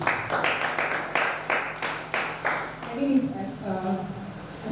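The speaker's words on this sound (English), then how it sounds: "Please round of applause for her." An audience at a creative writers and readers bootcamp event claps in a burst of steady applause, then it fades as a voice begins speaking.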